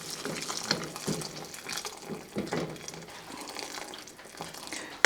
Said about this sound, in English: And now I'm going to add the water.